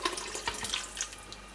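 Water pours into a pot of harira soup in a steady, splashing stream that runs for about a second and a half at close range, with no voices.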